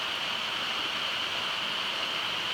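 A White Mountains waterfall roars as a steady, dense rush of falling water, constant and fairly close throughout with no voices over it.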